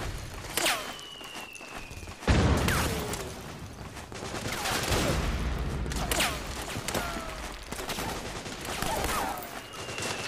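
Gunfire fills a firefight in the video game Metal Gear Solid 4, with bursts of shots and sharp cracks over a steady din of battle, alongside footsteps and brief in-game voices.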